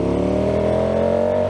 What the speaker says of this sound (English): That was the highest rev she's been all day.